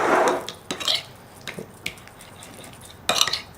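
Egg yolk and olive oil being mixed in a bowl for borek dough, heard as a few scattered clinks and scrapes of utensil against the dish with soft wet stirring between them, close and fairly quiet.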